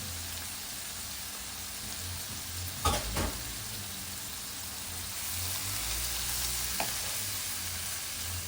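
Mussels stir-fried with ginger, shallots and spring onions in a hot pan, a steady broadband sizzle with a couple of brief scraping clatters of the spatula, growing slightly louder toward the end.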